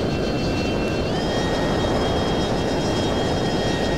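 Steady, close roar of an F-22 jet in flight in a combat flight simulator, closing in beneath a KC-135 tanker for refuelling, a constant broadband rumble with faint high tonal whine and no talking.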